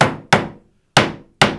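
Hammer blows driving a metal fret into a wooden ukulele neck: four sharp, loud, close knocks with quick decays and uneven gaps between them, no talking.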